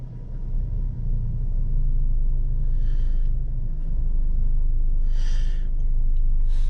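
A Jeep Renegade idles in gear with suspected worn lower transmission and motor mounts, a steady loud low rumble with the body shaking and rattling, a few brief higher bumps, no talking.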